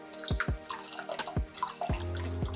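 Tamarind juice splashes into a pot of dal in a few quick drips and plops, close up, ending in a short steady pour with no talking.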